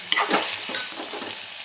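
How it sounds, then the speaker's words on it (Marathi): Onion and tomato being sautéed in a pan for peanut chutney, with a steady close sizzle and a couple of quick stirring scrapes and clinks, no talking. "छान परतून घ्यायचं आपल्याला."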